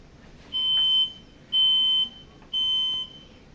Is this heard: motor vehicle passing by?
no